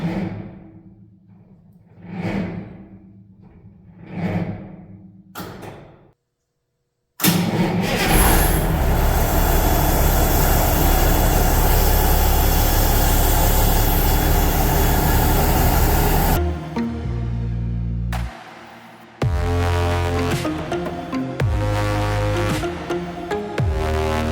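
A Case IH 9280 tractor, plugged in overnight in winter, cranks over in short bursts, falls silent, then its engine catches and roars into a loud, steady idle that keeps running to the end.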